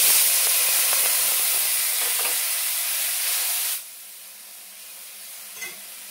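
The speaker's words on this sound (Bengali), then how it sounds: "ঝোলটা ফুটে গেছে, এবার মাছটা তুলে দেবো।" A tamarind broth for small fish bubbles in a pot with a loud hissing, steamy roar that stops abruptly partway through, leaving a quiet background with one faint knock.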